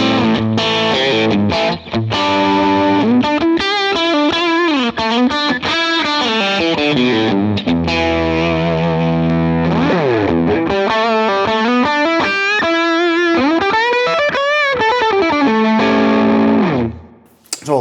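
An electric guitar played through heavy effects, distorted and chorused, with bending sustained notes and sweeping pitch slides, loud and continuous before cutting off.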